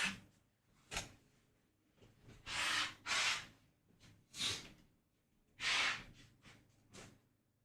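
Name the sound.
blowing nose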